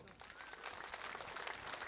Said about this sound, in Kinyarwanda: Mukomere amashyi abandi.